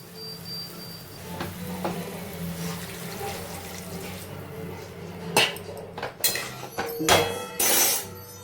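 Water splashes into a pan of simple potato curry made with salt, sugar, turmeric and chili powder, a short pour with clinks of the pot against a quiet kitchen background.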